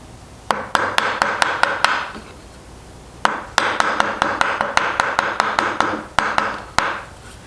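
Mortise chisel chopping into wood by hand: sharp, ringing mallet strikes in three quick bursts of rapid blows, loud and close, with short pauses between bursts and no talking.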